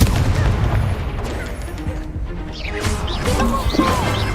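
Crashing blasts and booming impacts from Confringo spells in Hogwarts Legacy fill the stretch, loud and dense, layered with game combat noise and no voice.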